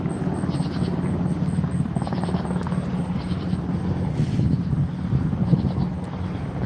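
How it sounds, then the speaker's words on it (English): A helicopter passes low over a city street, its steady rotor drone filling the scene at a constant, moderately loud level, with faint rhythmic chopping and distant background noise and no voices. "that sounds like a helicopter"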